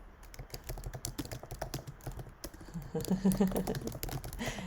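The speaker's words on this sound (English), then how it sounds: "so I will type that in" Rapid typing on a computer keyboard, close and steady, with a denser burst of keystrokes in the second half; no one speaks.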